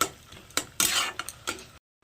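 Taro leaves fried with coconut are stirred in a pan over a low flame, a spatula scraping and clinking against the metal in several short, close strokes before the sound stops abruptly.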